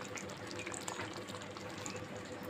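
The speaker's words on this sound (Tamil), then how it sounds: "சீஸ் கொஞ்சம் போட்டுக்கலாம் க்ரீம் கொஞ்சம் ஊற்றிக்கலாம்" Cream poured into a simmering chicken malai gravy in a pan, a continuous close liquid pour with soft splashing that stays even throughout.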